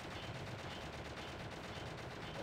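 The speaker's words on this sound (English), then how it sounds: "Keep unloading bullets." Rapid gunfire in the video game Shadow the Hedgehog, a dense, continuous stream of shots that runs without pause, faint and low in level, with no talking.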